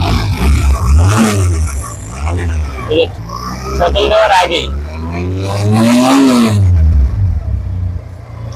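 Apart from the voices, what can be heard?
Pilder v4 motorcycle engine revving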